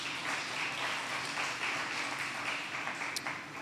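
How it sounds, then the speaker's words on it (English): A crowd applauding steadily for a few seconds, a dense wash of clapping at moderate distance with no voices. "Ntate Bukanga and Ntate Mohotsani, I think we need to give them a round of applause, all of them."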